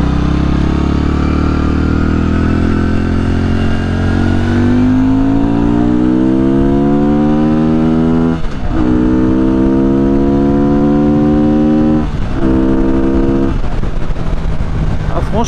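A Benda 500 Napoléon motorcycle engine climbs steadily in pitch as it revs past 6000 rpm, loud and close, with brief dips at gear changes before pulling up again; a voice talks over the engine.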